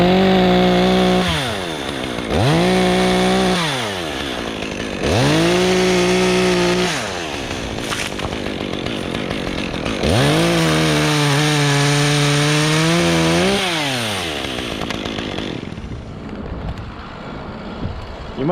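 Chainsaw cutting branches off a tree in a tight urban yard, revving loudly in four sustained bursts separated by brief idle dips, close and dominant with no talk.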